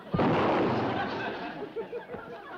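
A single booming shot, most likely from a gun, goes off close and loud in a sitcom feud scene, with a rumbling decay and a voice murmuring briefly near the end.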